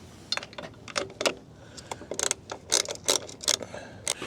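Screws being backed out of the seat of an 80-volt Onyx RCR e-bike, a run of small metallic ticks and ratcheting clicks in irregular bursts, close and fairly quiet with no talking.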